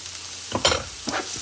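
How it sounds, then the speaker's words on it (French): Sausages and lentils are stirred in an electric slow cooker, a short scrape and wet shuffle of a spoon through the food, two close strokes with a soft sizzling hiss underneath. "Je mélange le tout."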